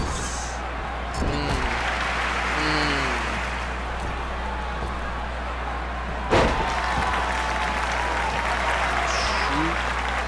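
Applause from an NJPW wrestling crowd in a video game, a broad steady wash of clapping with a couple of sharp thuds and brief game sound effects on top.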